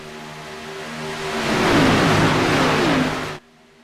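Stock cars racing at Daytona in a sim racing game, a loud engine roar swelling as a car closes in and passes, then cutting off abruptly just before the end, with no voices.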